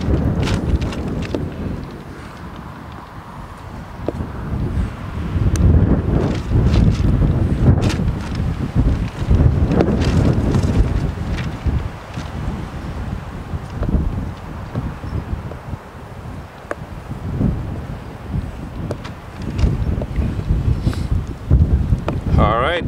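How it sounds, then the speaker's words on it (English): Strong wind gusting outdoors, rushing and buffeting across the microphone in uneven surges that rise and fall throughout, loud and close, with scattered knocks and handling noises mixed in. "Oh, it's pretty windy though today"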